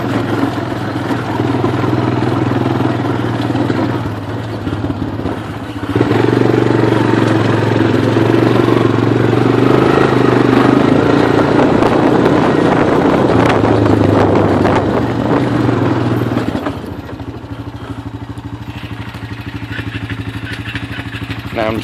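A two-wheel drive quad bike engine drones continuously while riding, rising and easing with the throttle under heavy wind buffeting on the microphone, loud and close throughout, with no talking.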